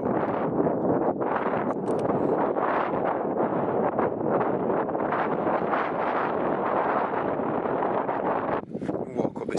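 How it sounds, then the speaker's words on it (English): Strong wind buffets the microphone on a scenic slope in Lanzarote, a loud, continuous roaring rumble that fills the whole stretch and eases only briefly at the end. "I know it's pretty windy, you might not be able to hear,"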